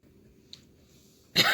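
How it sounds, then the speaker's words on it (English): A single sharp, loud cough bursts out near the end after a stretch of quiet room tone, close to the microphone. "I'm coughing more today than I was yesterday."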